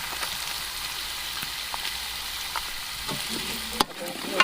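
Spiced chicken with green chillies and coriander powder sizzles and fries in a pan for peas pulao, a constant close hiss with occasional stirring clatter near the end.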